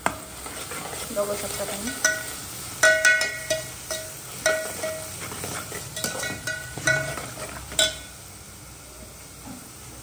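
A paste of ginger, garlic and coriander sizzles in a pan while being stirred, with a steady frying hiss broken by repeated scraping and clinking strokes of a spoon against the metal, then settling; a brief voice speaks.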